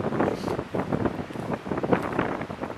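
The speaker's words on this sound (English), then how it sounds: "So let's go walk into the wind." Wind gusting across a microphone outdoors during a walk, a steady loud rushing roar with buffeting swells, no voices heard.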